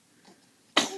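A baby gives one short, sudden sneeze at the very end after near silence, soft but sharp.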